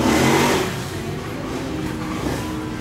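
A Honda motorbike engine revs loudly at first, then settles into a steady drone nearby, with street noise around it, in the old city of Chiang Mai, Thailand.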